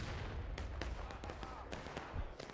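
Musket volleys crack out across a Civil War-era battlefield in War of Rights, a dense, irregular spread of sharp shots near and far over a low rumble.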